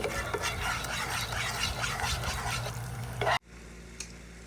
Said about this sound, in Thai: นี่เคี่ยวน้ำตาลปี๊บ